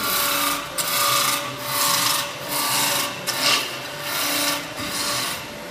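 A woodturning gouge taking a smooth, vibration-free cut on a lathe, with a steady rasping hiss that swells and fades in repeated passes roughly every second, loud and close with no talking.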